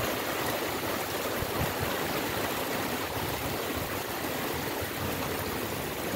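Steady, dense wash of heavy rain pouring down at the start of the rainy season, a constant broadband hiss with no breaks and no voices.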